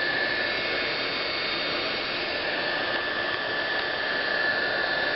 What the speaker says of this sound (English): You need a hot heat gun.